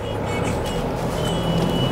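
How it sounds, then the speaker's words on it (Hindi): Steady road traffic rumble from a jam near Chakan, with continuous low engine drone and passing vehicle noise, fairly close and even throughout. "चाकन में है और यहाँ पे काफ़ी ट्रैफिक जाम है"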